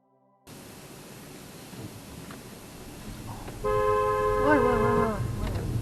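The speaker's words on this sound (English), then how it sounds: "I've let him know what I think by sounding my horn, flashing my lights." A Tesla's horn blares at a taxi jumping the lights on a Hong Kong road, a loud sustained honk that rises over steady road and cabin noise before fading out.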